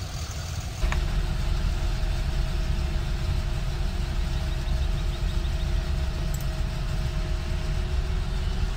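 Tractor engine in Farming Simulator 15 running at a steady drone, loud and continuous with a constant low hum and a faint mechanical whine, no change in pitch throughout.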